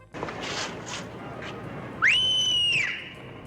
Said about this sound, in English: Whistling loud enough to call the block.